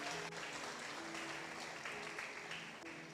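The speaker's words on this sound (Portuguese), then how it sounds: "Você pode aplaudir ao Senhor?" A church congregation applauding during a worship service, continuous faint clapping from a crowd heard at a distance with no talk over it.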